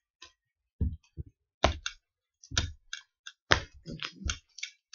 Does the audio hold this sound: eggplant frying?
no